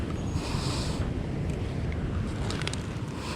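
Strong ocean waves surge at a rocky tidal pool in Casiguran, Aurora, a steady broadband roar with wind buffeting the microphone throughout, no voices.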